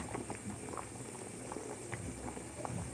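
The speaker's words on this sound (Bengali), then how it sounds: "মশলা রান্না শেষ পর্যায়ে" Beef and potato curry simmering in a pot, a soft, steady bubbling with scattered small pops, fairly quiet and unbroken, with no talking.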